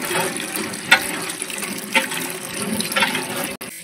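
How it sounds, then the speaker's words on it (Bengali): Running tap water pouring into a bucket at an outdoor tap, a steady rushing stream with a few brief splashy surges, close and fairly loud, no talking. "কলে বালতি চলে এসেছি, এখন জল দিচ্ছি"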